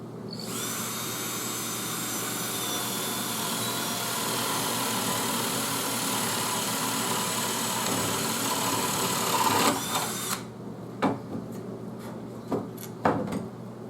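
Power drill boring a hole through a wooden plank, a continuous loud whirring grind for about ten seconds that cuts off, followed by a few sharp knocks and clatters.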